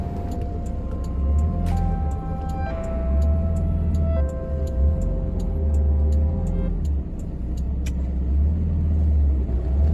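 A small Suzuki Jimny drives through a narrow lane near a temple, with a steady low engine rumble and a regular ticking like a turn signal over it.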